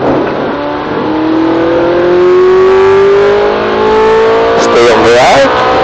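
Ferrari 458 Italia accelerating hard on the Red Bull Ring, a loud close engine note rising steadily in pitch, then shifting and revving with wavering tones near the end.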